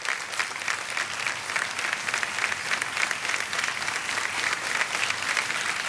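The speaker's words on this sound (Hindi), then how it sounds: "एक बार फिर तालियां" Steady studio audience applause on the KBC game show, dense even clapping from a large crowd held at a moderate level throughout.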